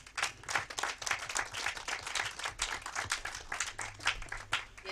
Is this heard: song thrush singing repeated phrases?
no